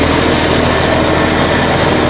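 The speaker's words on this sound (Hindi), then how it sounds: "ये देख लो दोस्तों, बिल्कुल लोड फ्री ट्रैक्टर चल रहा है" A John Deere tractor with 2530 hours runs steadily under light load while driving a super seeder with LJF-type blades, giving a loud, continuous engine drone with no pauses or talk.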